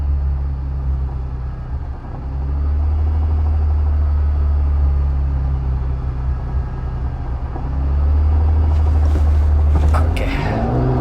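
A 1995 Honda NSX-R's engine runs loud and close, a dense steady drone with the low rumble swelling and easing as revs climb toward 8000 rpm, with a brief higher whine near the end.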